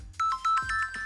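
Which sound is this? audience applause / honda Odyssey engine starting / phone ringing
phone ringing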